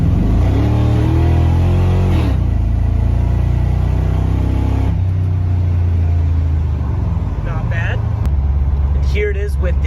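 An LS-swapped OBS truck accelerates with its electric exhaust cutouts closed, a loud, steady engine rumble rising in pitch through the gears, with engine noise filling the whole stretch.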